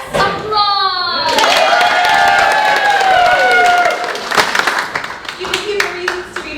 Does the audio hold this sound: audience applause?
yes